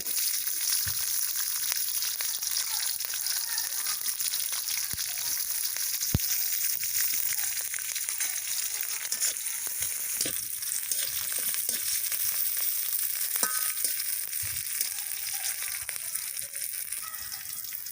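Chopped onion and green chilli sizzle steadily in hot oil in a pan for a Bengali prawn and banana-stem curry, a continuous bright crackling hiss with occasional sharper pops, close and loud, no voices.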